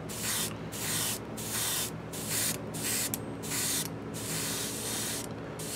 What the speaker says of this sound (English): I'm going to spray it out here on my paper towel until I get that new color coming through